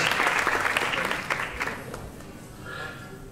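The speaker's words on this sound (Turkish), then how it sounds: "Güçlü bir alkış rica ediyorum." An audience claps at a school stage play, a burst of dense applause that starts strong and gradually thins out over a few seconds.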